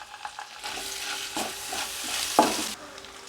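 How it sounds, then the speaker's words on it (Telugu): Chopped onion and green chilli frying in a pan for a healthy tiffin: a steady close sizzle swells in the middle, with soft stirring scrapes and one sharp utensil clink near the end. No voices. "కట్ చేసుకున్న ఆనియన్, గ్రీన్ చిల్లీ వేసుకోవాలి."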